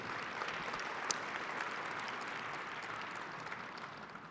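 Applause from a large conference general-session audience at a satellite industry event: steady, even clapping heard at a distance and fairly faint, with no talking.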